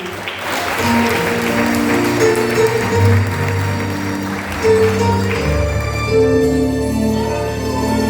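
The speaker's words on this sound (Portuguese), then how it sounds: "Aplauda bem forte o nome do Senhor." A church congregation claps steadily and loudly throughout, under sustained keyboard or organ chords during the service.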